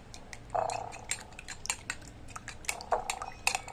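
Eggs whisked in a bowl for an egg bread breakfast, quick irregular clinks and taps of utensil against the bowl rim, close and fairly loud, no talk.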